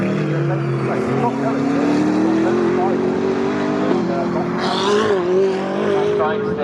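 A GT Cup race car at Snetterton loses its back end, its engine wailing and rising in pitch while tires squeal and skid, with a commentator talking over it.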